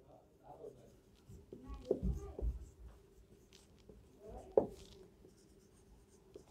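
A maths formula is written by hand in short scratchy strokes of varying strength, close by, with a faint voice murmuring in the background.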